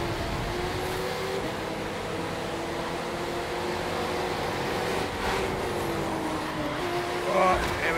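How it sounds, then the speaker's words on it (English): A Porsche GT3 RS races in The Crew 2, its engine holding a steady high drone with shifting pitch, a brief swell midway and a short tire-squeal burst near the end. "Driving the Porsche GT3 RS"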